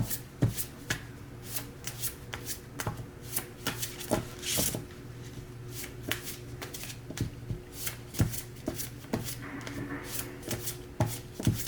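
Oracle cards are shuffled in a steady run of soft riffling flicks and crisp card slaps, close and clear over a faint low background hum, with no talking.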